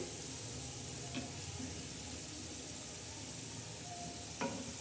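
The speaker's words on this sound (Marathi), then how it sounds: "मोदक आता आपण तळून घेत आहोत लालसर असे मस्त" Wheat-flour modak dumplings deep-fry in oil with a soft, steady bubbling sizzle, fairly quiet and even, broken by a couple of light clicks from a utensil.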